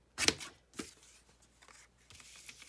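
Scissors trimming a sheet of paper while decorating a page: a short crisp snip, then a second softer cut and faint rustling, close and quiet with no talk.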